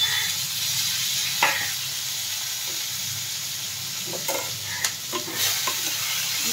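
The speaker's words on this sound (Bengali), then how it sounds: "একটু নেড়ে নেওয়া হচ্ছে।" Onion, garlic, green chili and tomato fry in mustard oil tempered with nigella seeds, a loud steady sizzle with intermittent spatula scrapes and clicks as the mixture is stirred.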